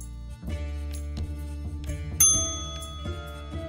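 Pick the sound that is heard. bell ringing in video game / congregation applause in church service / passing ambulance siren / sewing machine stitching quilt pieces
bell ringing in video game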